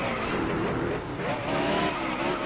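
In NASCAR Heat Evolution at Phoenix, a stock car skids with squealing tires toward the outside wall. The engine roars loud and close, and a brief dip in the noise breaks the sustained rasping sound.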